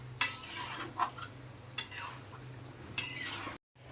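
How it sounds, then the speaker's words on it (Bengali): A metal spoon scrapes and taps against a cooking pot while a spice mixture is stirred, with a few distinct clinks spaced about a second apart over a low hum. "এবার সুন্দর করে মশলাটা মিলাই দিই"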